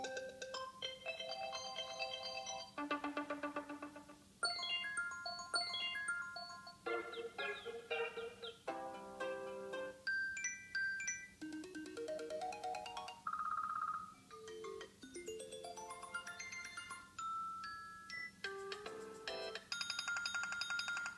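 Several new iOS 7 ringtones, each a short bright melodic pattern of arpeggios and chimes, play one after another with brief gaps and no talking.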